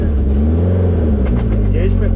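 A 2024 Polaris Pro R fitted with an EVO big turbo drives along, its engine a loud, steady low rumble with a slight rise in revs, and a voice talking over it.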